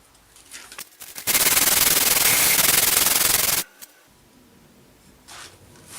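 A planer blade held in a simple jig is rubbed across abrasive grit paper in one sustained, loud, coarse scraping stroke lasting about two seconds, with quieter handling before and after.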